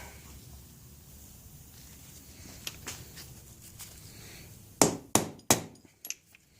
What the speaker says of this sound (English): So, I'll hammer that out real quick.